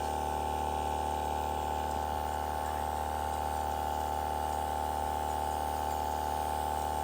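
A small water pump hums steadily and evenly while watering a garden of cabbages and watermelons, with a constant drone and liquid flow and no voices.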